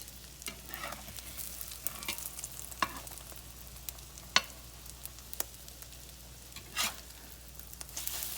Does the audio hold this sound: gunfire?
no